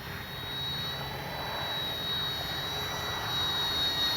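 FMS Cessna Skylane 182 1500mm RC plane flying overhead, its electric motor and propeller giving a steady, moderately distant whine and buzz that swells slightly toward the end, with no talking.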